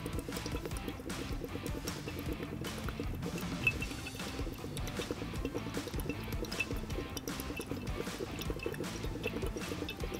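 Continuous bubbling as air is blown through a tube into water, a steady gurgling churn with no voices.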